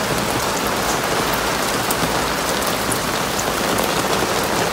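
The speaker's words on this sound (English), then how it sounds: "It is pouring rain." Pouring rain falls on a Thursday morning in a steady, hissing wash, loud and close, with no voices over it.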